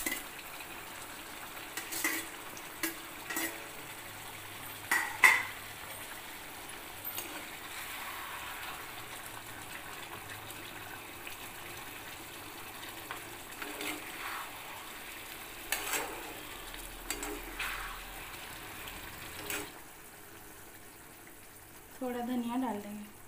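Fried capsicum and onion tipped into a pan of mushroom-stuffed aloo masala and stirred, with soft scraping and clinks of a spoon against the pan over a low steady sizzle, moderately close, and a voice speaking briefly near the end.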